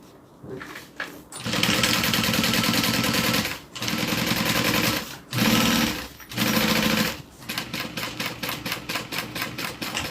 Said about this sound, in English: I'm going to stitch right underneath the zipper where the vinyl is.